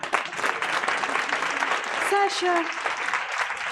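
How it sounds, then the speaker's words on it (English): Audience clapping after a business pitch at a Lionesses of Africa event, a full round of applause continuing throughout while someone speaks over it. "Can I hear a bigger round of applause?"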